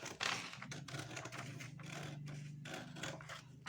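Scissors snipping through fabric while a pattern piece is cut out, giving a run of short, quiet scratchy cuts close by with no talking.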